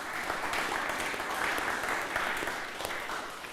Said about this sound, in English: So a big thank you to Roy and Ashan, if we can give them a round of applause as well.